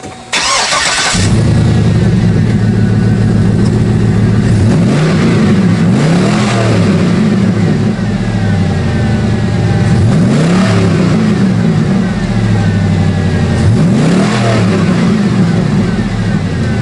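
A Cadillac Escalade with a 6.0 LQ9 V8 and an eBay dual exhaust starts up, settles into a loud, close, rumbling idle, then revs in several swelling bursts.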